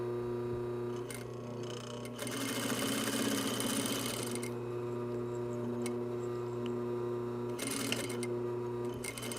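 A sewing machine stitches a shoulder bag seam, its motor humming steadily under bursts of rapid needle clatter that start and stop, close by and moderately loud, without talk.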